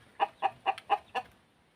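A rural chicken, a Thai native breed, gives five evenly spaced clucks in quick succession, close and fairly quiet, with nothing else around them.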